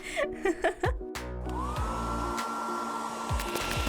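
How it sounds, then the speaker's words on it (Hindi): A hair dryer blowing on frozen water in a jar to melt the ice, starting after a few brief laughs and short sounds, then whirring steadily and loudly close by. "बर्फ को कैसे पिघलाएं? एक हेयर ड्रायर।"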